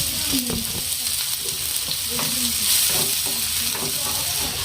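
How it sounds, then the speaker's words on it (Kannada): Onions frying in hot oil in a pan for a street-style egg pav, a steady close sizzle with a few stir-scrapes scattered throughout, no talking. "ಉಳ್ಳಾಗಡ್ಡಿ ಮೆತ್ತಗಾಗೋ ಮಟ್ಟ ಫ್ರೈ ಮಾಡ್ಕೊಂಬಿಡ"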